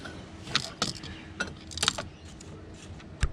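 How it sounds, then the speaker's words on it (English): A car engine pulley spun by hand gives off a series of light metallic clicks and rattling ticks, several quick irregular bursts close up against a quiet background. "now we're going to spin a pulley"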